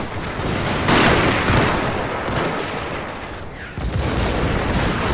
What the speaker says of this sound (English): Ooh, that was a good hit, artillery.